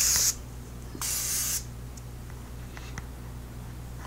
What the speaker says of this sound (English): I'm also going to set my makeup using the Morphe Prep and Set Makeup Setting Spray.